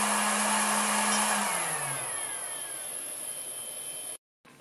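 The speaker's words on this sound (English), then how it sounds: "the fan noise on the end on this charger" A steady, loud fan whir runs close by, its pitch drifting down slightly before it cuts off abruptly.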